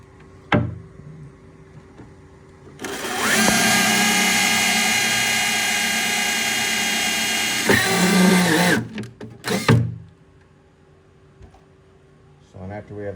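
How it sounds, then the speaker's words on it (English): A power drill bores a pilot hole while mounting a 10-inch midbass adapter ring, running loud and steady for about five seconds up close, then winding down with a few short bursts. "First one, we'll drill a pilot hole."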